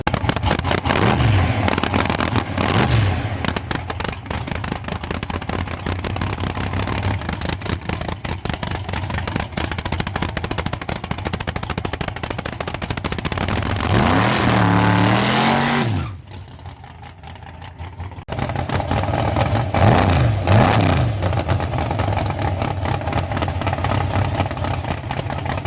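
A car engine runs during a power test on the street, droning steadily, then revving up and falling back in rising and falling sweeps. It cuts out briefly near the end before the loud engine noise returns; no talking.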